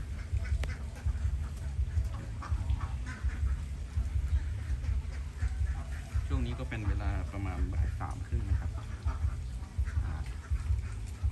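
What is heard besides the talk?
young ducks quacking in a farm pen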